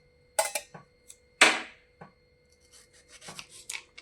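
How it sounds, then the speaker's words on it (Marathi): A knife chops a tomato finely on a board. Quick, irregular cuts and scraping strokes come up close in a quiet kitchen, with short pauses between the bursts. "तर टोमॅटो चिरून घेऊया।"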